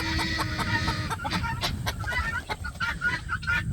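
Backyard chickens and guinea hens calling close by, a busy overlapping mix of clucks and sharp repeated guinea cries with rustling in the background and no talk.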